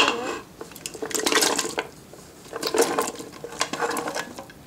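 Whole butternut squash dropped into an Instant Pot, with hollow knocks and clatters of the squash against the metal inner pot in two bursts, close and moderately loud, with no talking.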